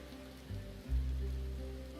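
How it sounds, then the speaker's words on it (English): Rain in the online game Final Fantasy XIV falls steadily and softly over low ambient tones, with a deeper swell rising partway through, quiet and with no voices. "Although it's raining, that's kind of weird."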